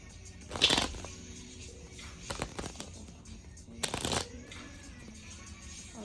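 Brisk riffling bursts of tarot cards being shuffled, two prominent flurries with softer handling in between, quiet and close.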